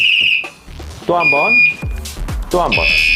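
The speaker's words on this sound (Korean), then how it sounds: "가운데 번개 표시는 어떤 표시냐면 한 번 한 번 누를 때마다 패턴이 바뀝니다." An electric bicycle's anti-theft alarm cycles through shrill electronic beeping patterns, loud and close, with tones switching between bursts while someone talks over it.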